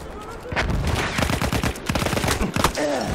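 Dense, rapid gunfire from Battlefield 1 multiplayer fills the whole stretch, with overlapping automatic bursts and single cracks. It sounds close and loud, with faint voices mixed in.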